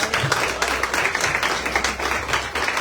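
A church congregation applauds, a brief burst of dense, continuous clapping at moderate level with no talk over it.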